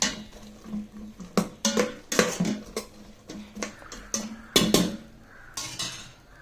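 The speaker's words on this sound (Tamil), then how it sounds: "இப்போ இதை நல்லா எல்லாத்தையும் கலக்கிடுங்க" Banana stem, turmeric and onion are mixed inside a pressure cooker, with irregular metallic clanks, scrapes and knocks of a spoon against the pot in short bursts, close and fairly quiet, with no talk.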